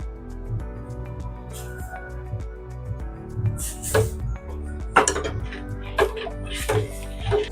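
A spoon scoops amla, shikakai and reetha powder into a pot of boiling water, with repeated close metallic clinks and taps over a steady tonal hum in the background.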